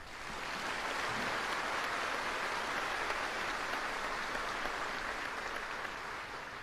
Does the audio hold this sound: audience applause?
yes